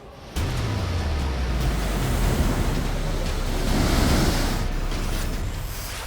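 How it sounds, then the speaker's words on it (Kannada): Water rushes out through the opened gates of the Tungabhadra dam, where one gate has broken away, making a loud, continuous roaring surge with heavy wind buffeting close to the microphone. "ತುಂಗಭದ್ರಾ ನದಿಯ ಎಲ್ಲ ಗೇಟ್ಗಳನ್ನು ತೆಗೆದು ನೀರನ್ನು ಹೊರಬಿಟ್ಟಿದ್ದಾರೆ"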